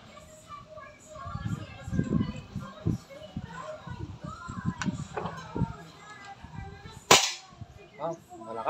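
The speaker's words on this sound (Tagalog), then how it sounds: "Malutong yung putok niya, malakas." A TCA Mini PCP Tactical air rifle fires once, a sharp, crisp crack near the end with a brief ringing tail, after several seconds of people talking and nearby clatter.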